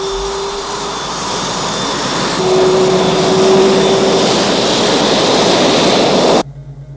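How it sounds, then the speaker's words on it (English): A jet aircraft sweeps past in a low-level, high-speed flyby, a loud, steady roar that builds and holds for several seconds before cutting off abruptly near the end. "I'm coming in for the low-level run. Here I come. Hold on to your ears."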